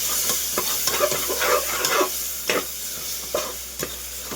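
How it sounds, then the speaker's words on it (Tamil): Biryani masala stirred through a mushroom biryani base in a pan, with repeated scraping strokes of a spoon over a continuous frying sizzle, close and clear. "வந்து எல்லாத்தையும் நல்லா ஒரு வாட்டி ஒட்டுக்க கிண்டி விட்டுக்கலாம்"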